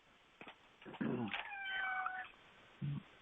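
A house cat meows in a home office, a few short drawn-out cries and a brief trailing mew at close range, with soft background sound between them.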